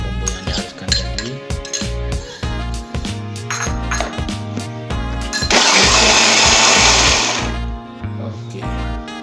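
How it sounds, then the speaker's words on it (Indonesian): A kitchen blender grinds genjer (yellow velvetleaf) shoots into a ground spice paste, sounding as a loud steady whir with clattering pulses and a harsher surge midway before easing off. "Itu pucuk juga kita masukkan sebentar, kita giling sebentar saja ke dalam bumbu yang dihaluskan tadi."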